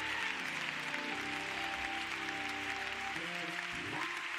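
A church congregation claps in praise and thanksgiving during a worship service, a steady, fairly soft roll of many hands that carries on throughout, with sustained organ or keyboard tones sounding beneath it.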